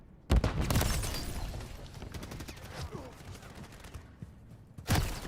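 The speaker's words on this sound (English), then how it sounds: "Throwing a stun grenade." Loud gunfire bursts and a sharp stun grenade blast in a tactical shooter video game match, with a heavy crack at the start, sustained rattling fire in between, and another sharp burst near the end, mixed with faint game voice chatter.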